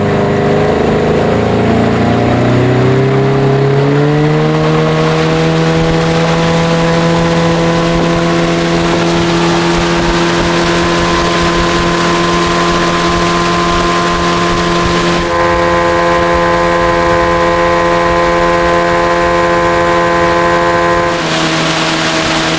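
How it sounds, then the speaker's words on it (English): A motorboat engine drones steadily and loudly throughout on open water near an island, its pitch rising as it revs up early on, then holding a constant throttle. "we'll probably start motoring on over to that island"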